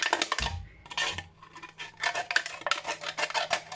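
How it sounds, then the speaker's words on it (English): Scissors cut around a tin can to make a metal peony, giving rapid crisp snips and scraping metallic clicks close up, with brief pauses between cuts and no talking. "and just cut round like that"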